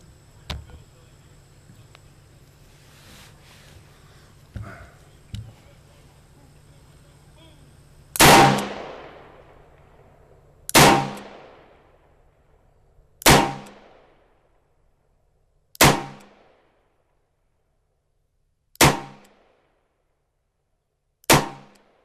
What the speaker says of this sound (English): We're going to fire some double action, and then I'll try some single action headshots